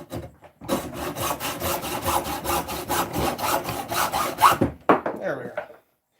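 A hacksaw cutting through wood for a handmade flute, with steady rhythmic back-and-forth rasping strokes, close and loud, ending abruptly as the cut finishes, followed by faint handling noise.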